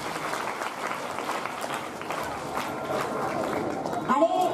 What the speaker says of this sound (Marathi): जरा एकदा जोरदार टाळ्या